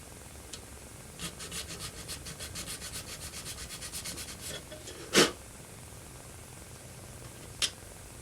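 A hand file rasps back and forth across a plastic model kit part in a quick, steady series of faint strokes, followed by a couple of louder isolated scrapes near the end.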